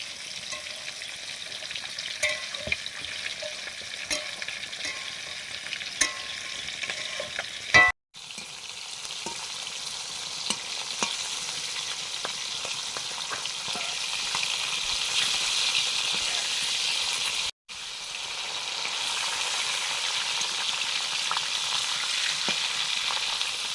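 Catla fish head frying in a pan, a steady dense sizzle with occasional crackles and scrapes, interrupted by two brief silent gaps, with no talking.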